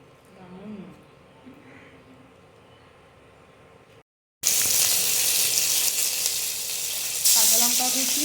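Whole garam masala, dry red chillies, cumin seeds and bay leaf sizzle in hot oil for a vegetarian alur dom. A quiet stretch is broken by a short silence, then a loud, close, bright sizzle surges up, with a voice speaking nearby.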